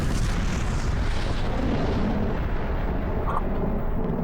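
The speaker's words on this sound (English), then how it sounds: "the explosion" A large explosion in a Bleach Thousand-Year Blood War anime episode, a dense sustained rumbling roar that stays loud throughout with no talk over it.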